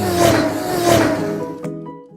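A car engine revs hard in two surging pulls, loud and close, then cuts off abruptly, at Daytona Beach.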